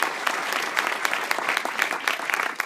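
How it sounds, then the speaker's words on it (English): A round of audience applause follows speakers at an evening talk on refugees, with crisp dense clapping from a sizable crowd that holds steady throughout. "Let's give them another round of applause."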